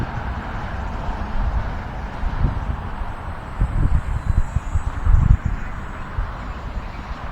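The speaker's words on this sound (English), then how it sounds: "Yeah, it's real windy today." Strong gusting wind buffets the microphone outdoors during a flight of a small UMX Raiden model aircraft, with low rumbling bursts swelling and fading throughout and no other clear sounds.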